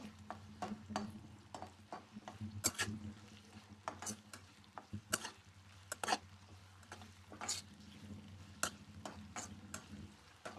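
Curry leaves and onions fry in hot oil, a soft continuous sizzle under frequent sharp crackles and spoon-scraping stir clicks, faint and close.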